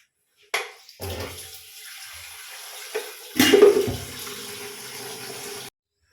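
Water runs and splashes into a pot at close range for heating, with a clank of metal before it and a steady flow that stops abruptly.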